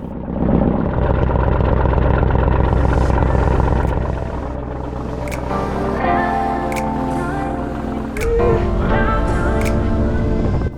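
A ferry's engine runs loud and close on a crossing from Cebu to Siquijor in the Philippines, a heavy rumbling drone with a throbbing low pulse that shifts in pitch as it settles, broken by occasional sharp clanks.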